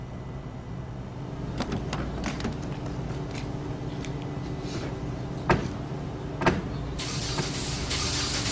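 A car sits with its engine running at a low steady rumble, joined by clicks, creaks and a couple of sharp door-like thuds, then a brighter whir near the end.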